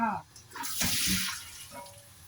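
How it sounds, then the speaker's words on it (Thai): A pot of water coming to a boil for blanching vegetables, a bubbling, splashy wash heard close, with a voice speaking over it at the start. "น้ำเริ่มเดือดแล้วนะคะ เราจะมาลวกผักก่อนจ้า"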